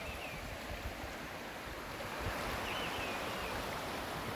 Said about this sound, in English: well, stream's in full flow.